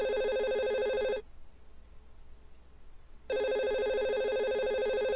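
Electronic telephone ring in two long bursts separated by a two-second pause, steady and prominent against quiet background, with no talking.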